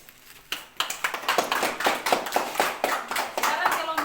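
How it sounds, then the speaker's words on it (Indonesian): Classmates in a classroom clapping for a group that presented its discussion, a small group's fairly rhythmic, close handclaps that start abruptly and continue steadily. "Berikan aplaus."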